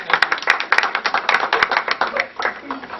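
An audience claps at a school board meeting, with brisk, fairly close applause from a modest group, steady for a few seconds before thinning out toward the end.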